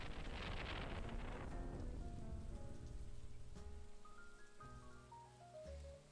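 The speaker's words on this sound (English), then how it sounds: "it is now lashing down rain" Heavy rain lashes down outdoors, heard indoors as a steady wash that gradually eases, beneath soft tonal game music with rising and falling notes.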